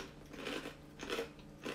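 Crisp crunching bites into a pizza-flavored cracker from Trader Joe's, three close chewing bursts in quick succession, fairly quiet and with no talking.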